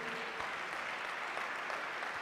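Applause from an audience at a lecture or religious gathering, a steady, even patter of clapping that sounds distant and fairly faint throughout.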